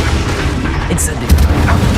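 A fire spell cast in Hogwarts Legacy gameplay, a heavy booming burst with a rumbling low impact and a bright flare partway through, loud and close, overlapping game voice chatter.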